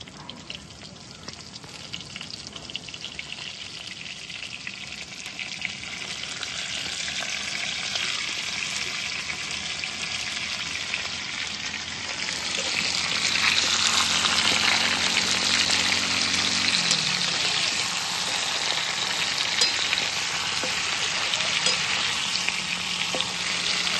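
Bitter gourd goes into a pan with chillies, tamarind and cumin frying in oil. A steady sizzle swells louder midway, with faint stirring, and no one talks.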